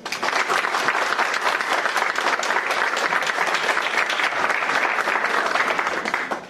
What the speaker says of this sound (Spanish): quiero pedir para todos aquellos que han hecho eso un fuerte aplauso